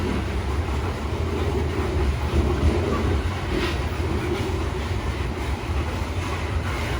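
A train rolls along a railway line right beside lodging near Banff, giving a loud, steady rumble and rolling clatter that holds the whole time. No one speaks.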